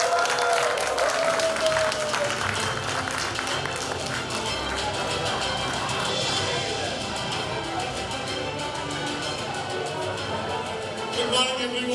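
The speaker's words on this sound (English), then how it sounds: "give big round of applause to our distinguished moderator" An audience at a business forum panel session on digital transformation applauds the moderator, producing sustained, dense clapping that fills the room and fades near the end.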